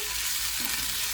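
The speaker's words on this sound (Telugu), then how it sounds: "ఇలా బాగా కలుపుకున్నాము" Potato rice being stirred with chilli powder in a hot pan, a steady close scraping stir over continuous frying sizzle, with no voices.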